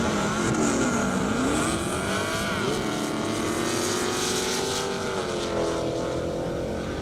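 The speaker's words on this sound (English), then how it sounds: "That TRX is no slouch, but he's about ready to get gapped." A Ram TRX truck runs down a half-mile airstrip at a 2021 Indy top-speed event, its engine roaring loud and continuous as the pitch climbs and wavers, with no talk over it.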